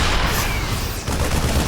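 A StarCraft siege tank fires a shot in a real-time strategy match, a dense, loud blast of game gunfire and boom filling the whole clip with a brief dip near the middle, no talk.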